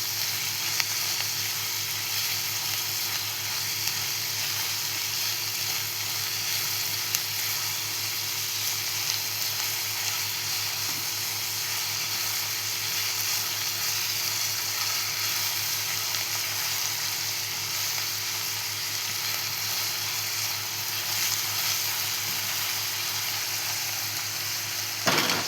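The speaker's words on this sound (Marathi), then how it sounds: "इथे तर आपण कांदा परतवून घेतोय चांगल्या प्रकारे." Onions sautéing in a pan for a spicy chicken gravy, giving a steady, even sizzle and frying hiss throughout, close by and unbroken, with no talk over it.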